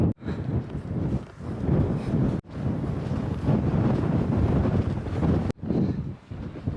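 Strong wind buffeting a microphone on an exposed hillside along the Pennine Way, a loud continuous roar with gusty surges and two abrupt momentary drops, no talking.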